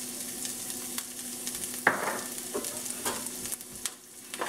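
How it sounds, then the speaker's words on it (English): Ginger and garlic hit hot stir-fry oil in a skillet for beef and broccoli, bursting into a loud sizzle about two seconds in that keeps frying and crackling under occasional utensil clinks. "I'm going to go ahead and add my ginger and my garlic to that."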